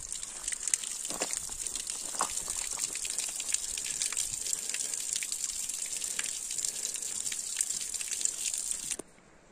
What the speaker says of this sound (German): Hier tropft es wieder.